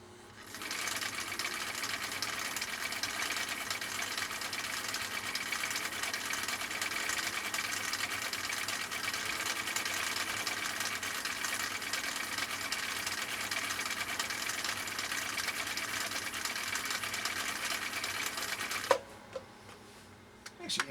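A 1959 Husqvarna Viking CI-21A sewing machine with a Schmetz universal needle runs continuously, a fast, even mechanical whirring chatter close up for nearly twenty seconds before stopping abruptly, followed by a few faint clicks.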